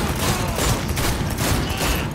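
Sustained gunfire against enemies in Cyberpunk 2077, a dense, loud burst of overlapping rapid shots filling the whole moment without pause.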